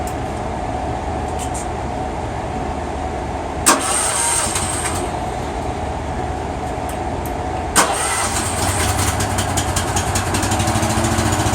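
A heavy haul truck's diesel engine idles in a steady low rumble, with two sharp clunks about four seconds apart that jolt the sound before it settles again; no one speaks.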